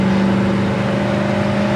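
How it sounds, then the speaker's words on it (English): A 1969 Chevy El Camino engine with a 4-barrel carburetor hums loud and close from inside the car, a steady mid-pitched drone with a firm, even tone throughout. "You can hear that 4-barrel open up."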